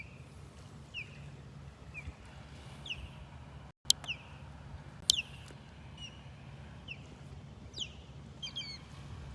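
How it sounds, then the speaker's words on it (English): Two ospreys on a beach in North Naples, Florida give high, thin whistled calls repeating every second or so at a distance, with a couple of sharper piercing cries over a quiet low rumble. "Two ospreys you're hearing."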